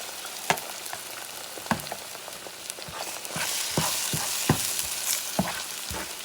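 Cod and egg mixture sizzling steadily in a pan over medium heat, with repeated scrapes and taps of a utensil as it is stirred and scrambled, close and continuous without talk.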